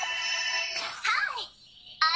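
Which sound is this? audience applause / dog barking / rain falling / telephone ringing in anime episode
telephone ringing in anime episode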